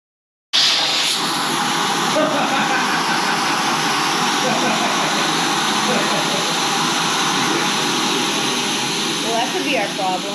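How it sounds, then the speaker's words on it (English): Homemade Lego vacuum engine starts up suddenly and runs with a loud, steady whirring roar throughout, with light rattling over the top. "today I'm going to be showcasing my Lego Vacuum Engine"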